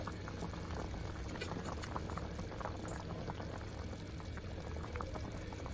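Liquid boiling hard in a covered pot on the stove before fish goes in, a steady dense bubbling and crackling patter that fills the whole stretch evenly and close by.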